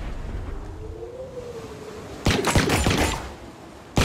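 Virtual blaster shots at drones in the VR game Viro Move: a low rumbling hum with a faint rising tone, then a burst of several sharp, loud, crackling shots, with one more hit at the end.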